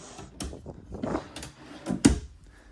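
A few wooden knocks and slides, like a drawer being pulled out and pushed shut in a 2026 Impression 301ML fifth-wheel rear kitchen, ending in a sharper close thump, fairly near.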